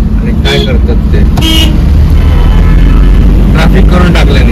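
Busy road traffic near a bridge and flyover in South Goa, with cars and two-wheelers, a steady loud engine rumble broken by a couple of short horn toots, while someone talks over it.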